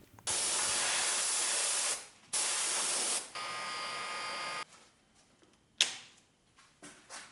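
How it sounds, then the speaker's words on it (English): Airbrush being flushed clean between coats of solder mask, giving three loud, sustained sprays of hissing air, each lasting one to two seconds. Quieter clicks and handling noises follow. "one smart thing to do is clean the airbrush to save a little bit of time"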